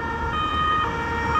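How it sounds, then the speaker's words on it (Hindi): A police car's siren sounds as the vehicle speeds past on a night street near the Eiffel Tower in Paris, a loud wailing tone with traffic rumble underneath and no talking. "पुलिस की गाड़ी भी निकली है अभी तेज़ी से"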